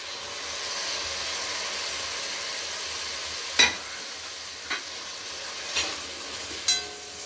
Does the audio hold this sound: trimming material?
no